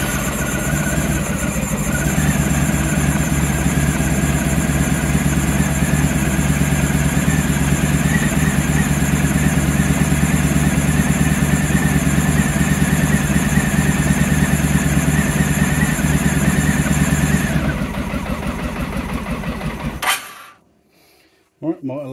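Honda ST1100 motorcycle engine running loud and steady at a close idle, with a constant mechanical hum and whine that holds for about seventeen seconds before dropping away and cutting off near the end.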